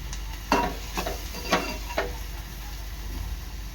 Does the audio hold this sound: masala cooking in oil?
yes